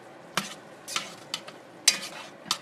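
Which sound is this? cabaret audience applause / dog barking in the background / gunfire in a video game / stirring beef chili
stirring beef chili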